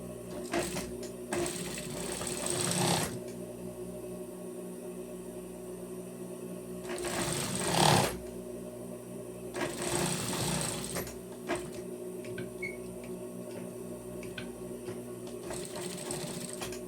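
A sewing machine topstitches a jacket seam with an ordinary presser foot, running in several loud steady bursts with short pauses between them, close up and with no talking.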